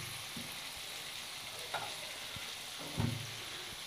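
Eggplant and potato fry in a pan with a soft, steady sizzle, broken by a few scraping stirs and light knocks of a utensil, heard alone and fairly faint.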